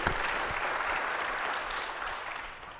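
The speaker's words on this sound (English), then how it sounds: "that I think deserves applause" Steady applause from a small tech conference audience, a continuous patter of clapping that holds level and then gradually fades out.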